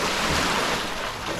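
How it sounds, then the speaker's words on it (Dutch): Sea surf rolls onto the shore in a continuous broadband wash mixed with wind buffeting the microphone, loud and close, with no talk. "We gaan richting de zee."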